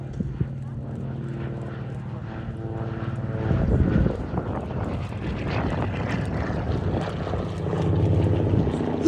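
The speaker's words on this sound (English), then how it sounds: "lovely graceful aircraft, probably up to about 140 knots there as he passes by" A Lockheed 12A Electra twin propeller aircraft flies past at an air show at Sywell, a steady droning engine hum that swells as it nears and then fades away, heard moderately close.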